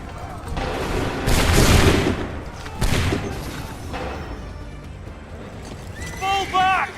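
Musket volleys crack out in Assassin's Creed 3: two loud, ragged bursts of massed gunfire, the first longer and rolling, the second short, with shouted voices in the background and near the end.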